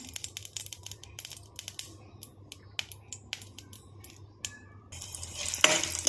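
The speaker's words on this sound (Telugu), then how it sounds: "జీడిపప్పు వేయించుకున్నాం కొంచెం నెయ్యి వేసి కొంచెం నెయ్యి వేసాను జీడిపప్పు వేపుకున్నాం" Cashews frying in ghee in a pan, a steady crackling sizzle with frequent sharp ticks and stirring scrapes close up, swelling into a louder hiss near the end.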